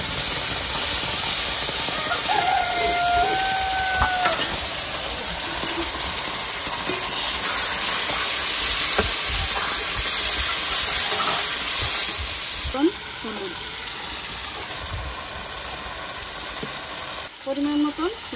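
Cumin, dried chili, ginger and garlic fry in a pan alongside goat meat, giving a steady, close sizzle and hiss with occasional stirring scrapes throughout.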